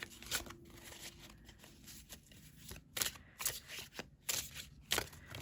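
A Pixie's Whisper Christmas tarot deck is shuffled by hand in quiet, close-up riffles and flutters, with sharp card-slap bursts in uneven rhythm and soft pauses between.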